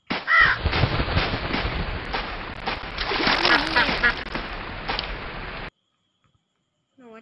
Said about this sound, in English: Don't dare disturb the crow.